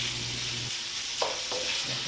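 Tofu fries in hot oil in a pan over medium heat, a close, continuous hissing sizzle with faint stirring scrapes, heard alone for a couple of seconds.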